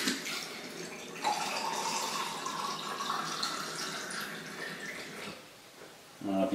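Well water runs from a tap with fresh filters, cloudy with air bubbles, making a steady hissing splash that holds for several seconds, close by, briefly changing near the end.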